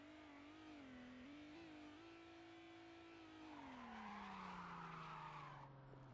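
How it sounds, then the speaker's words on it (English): A drifting car in the VRChat video game: a steady droning engine tone that slides up and down in pitch, joined midway by a rising, hissing tire skid that swells and then cuts off. "It's a drifting car."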